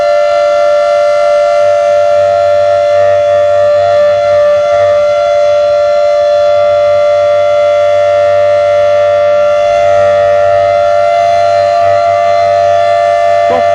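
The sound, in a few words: civil defense siren during blackout in Doda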